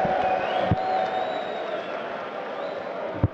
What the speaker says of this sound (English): security are going to find the person or the perpetrator of the whistling, because they haven't stopped